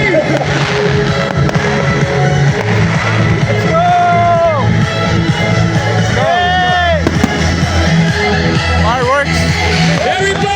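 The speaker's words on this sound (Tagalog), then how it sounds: "Fireworks." Fireworks burst at the start of the Cebu Marathon at night, loud and continuous over a cheering crowd of runners, with an announcer shouting throughout.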